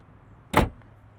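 The light front trunk lid of a 2022 Volvo XC40 Recharge electric SUV drops shut with one short, solid thump close by, then quiet.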